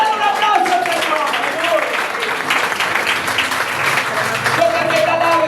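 A church congregation applauds during a sermon, sustained loud clapping throughout with voices and a speaker talking over it.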